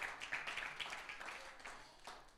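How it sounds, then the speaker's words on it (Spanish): A church congregation applauding, a quiet, fairly distant patter of many hands clapping that lasts a couple of seconds and then fades. "Demos un fuerte aplauso a los que están ahí en su casita."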